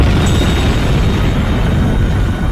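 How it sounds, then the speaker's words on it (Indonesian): Bomb vest blast from the Indian film Dil Se: a dense, sustained low roar that fills the whole stretch at steady loudness, with no voices over it. "rompi bom yang dikenakan Moina kemudian meledak dan membunuh mereka berdua"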